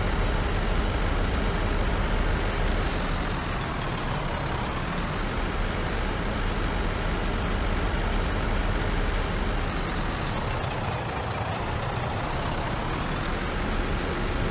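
A tractor engine in the video game Farming Simulator 19, hauling straw on a North Frisian marsh farm map, drones loudly and steadily throughout, with rising and falling pitch sweeps as it works, no voices heard.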